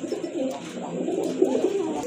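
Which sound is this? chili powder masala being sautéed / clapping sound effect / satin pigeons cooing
satin pigeons cooing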